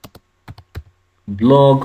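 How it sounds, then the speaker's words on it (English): A few quick keystrokes on a computer keyboard while typing a blog post search, sparse clicks close by, followed by a person starting to speak. "as I am typing the blog post"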